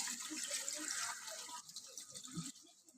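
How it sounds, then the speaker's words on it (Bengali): A little water being poured into a pan of chicken curry, a soft hissing stream for about a second and a half, then quiet trickles and light drips, close and faint. "এবার আমি অল্প জল দিয়ে দেবো, বেশি জল দেব না, গায়ে মাখা হবে।"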